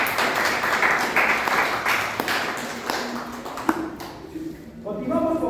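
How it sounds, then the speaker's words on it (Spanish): A room of people at a labor law lecture claps steadily for a speaker, the applause fading out toward the end as a voice begins to speak. "Un aplauso para el licenciado."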